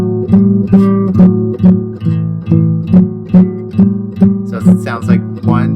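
Blues guitar phrase from tab played in straight, evenly spaced written rhythm, a run of about a dozen plucked notes and chords in a steady pulse, close and clear, with a brighter bend near the end.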